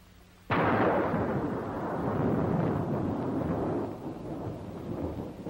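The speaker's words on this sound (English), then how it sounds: "Is that real thunder?" A sudden deep thunderclap bursts in and rolls on as a long, broad rumble that slowly fades, loud and close, heard at night at a train station in a wartime setting.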